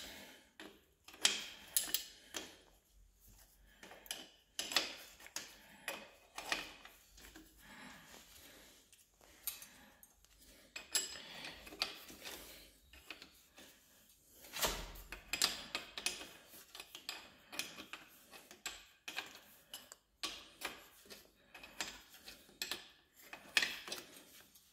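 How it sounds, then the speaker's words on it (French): A 16 mm wrench unscrews a mountain bike pedal, giving close, irregular metallic clicks, ratcheting and scraping taps in quick bursts across a quiet background. "c'est une clé de 16 pour moi. Donc on va pouvoir dévisser la pédale"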